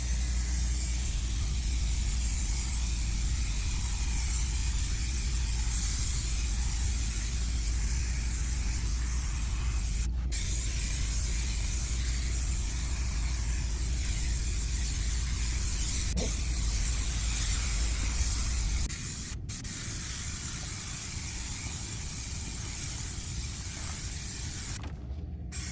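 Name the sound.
spraying adhesive glue from a spray can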